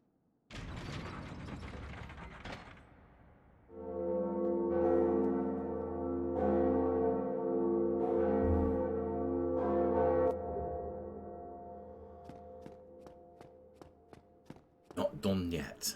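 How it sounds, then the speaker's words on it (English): A large bell in the Dark Souls video game rings out with a sustained, layered metallic tone lasting several seconds, preceded by mechanical clanking and followed by a fading hum and scattered footstep-like clicks. "We are going to ring what would be the second bell."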